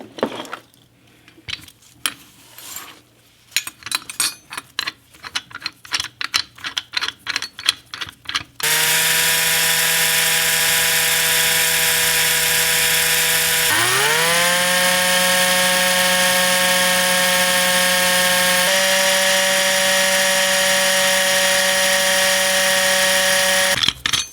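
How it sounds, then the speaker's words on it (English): A power drill whirs loudly and steadily, its pitch dipping as it bites into metal rivets on a Hot Wheels Beach Bomb VW bus toy, after a stretch of clicking and rattling handling noises. "So let's go ahead and drill this out."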